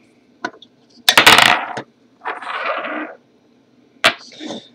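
Batteries pop free from the sprung contacts of a Wismec RX200 vape mod, sounding as a few sharp, close clicks and metallic rattles separated by quiet gaps, with no voices.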